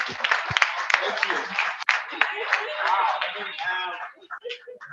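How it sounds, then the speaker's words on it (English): An audience welcomes a speaker with applause, a brisk patter of many hands clapping for about four seconds before dying away into quiet. "So let's please welcome him again with a round of applause."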